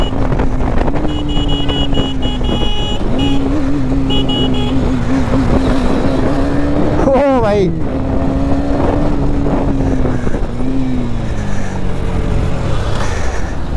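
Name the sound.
Kawasaki H2R motorcycle ridden fast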